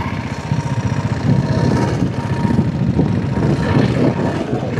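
A diesel-engine motorcycle runs nearby with a loud, rough, continuous low throb that holds steady throughout, with no voices.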